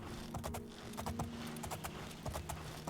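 Rapid clip-clop of horse hooves at a steady galloping rhythm in the video game The Elder Scrolls IV: Oblivion, fairly close, with faint background noise and no talking.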